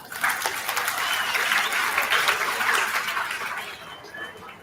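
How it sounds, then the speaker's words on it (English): Audience applause at a Salesforce job-readiness launch event, many people clapping together in a continuous wash for several seconds before it fades slightly. "A big round of applause for all of you."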